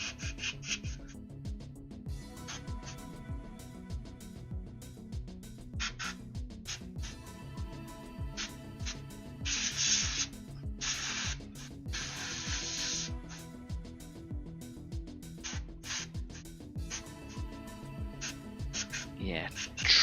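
Miniature models are spray painted in short, sharp hissing bursts, a few seconds apart, over steady background noise while someone talks throughout.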